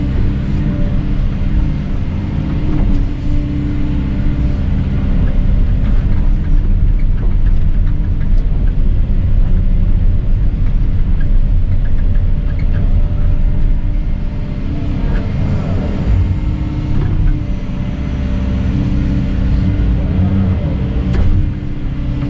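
An excavator's diesel engine rumbles steadily and close while the machine drives over stone in thick mud on a rain-soaked lot being cleared. Deep, continuous droning with a few faint knocks and scrapes comes through, and no one speaks.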